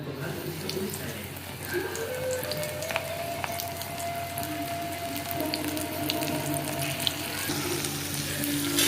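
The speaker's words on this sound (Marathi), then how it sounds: "कोळमी आपली छान अशी फ्राय होऊन जाईल" Prawns fry in hot oil with a continuous crackling sizzle, like light rain, that grows slightly louder toward the end, with a faint tonal hum in the background.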